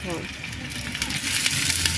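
Chicken meat hits hot oil and fried onions in a clay pot, giving a steady close sizzle that builds louder toward the end, with faint scraping and light clinks.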